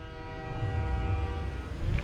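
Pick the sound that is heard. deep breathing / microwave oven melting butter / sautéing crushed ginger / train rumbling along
train rumbling along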